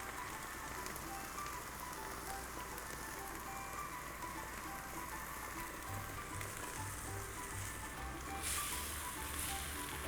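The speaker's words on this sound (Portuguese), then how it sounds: "o prato vai terminar de cozinhar no leite de coco" A dish of vegetables simmering in coconut milk in a pan, a steady, soft bubbling and sizzling hiss that continues evenly throughout, quiet and close.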